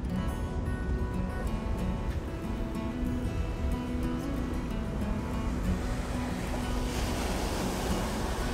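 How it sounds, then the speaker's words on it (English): Pacific Ocean surf at Moolack Beach on the Oregon coast, a continuous roar of breaking waves with wind buffeting the microphone, loud and close, swelling slightly near the end. "Let's go stand in the Pacific Ocean for a minute."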